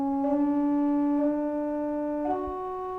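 Enharmonic tetrachord played on an arciorgano, a historical organ: sustained organ tones stepping through small microtonal intervals, with steady harmonic pipe sound and a shift near the end, no talking.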